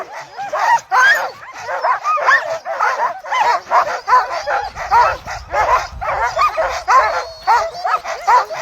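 Alaskan husky sled dogs at the Knik 100 race near the Knik Bar at Settler's Bay, yipping and barking excitedly in a steady, overlapping chorus at close range, with eager whines mixed in.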